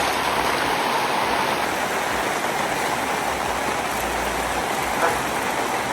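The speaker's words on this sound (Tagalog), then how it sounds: "bumuhos yung malakas na ulan" Heavy rain pours down on a campsite on Mt. Acato in Benguet, a dense, steady hiss, constant and loud from start to finish with no letup.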